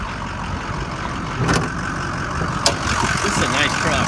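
A studded-engine pickup truck with about 162,000 miles runs steadily at idle, a low continuous rumble with a couple of brief clicks or knocks on top.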